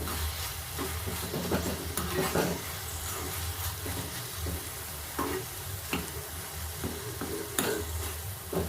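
Tomato chutney is stirred in a frying pan for a hotel-style tomato chutney, with a soft continuous sizzle and scraping strokes near the pan. Sharper scrapes come at irregular intervals, and no one speaks.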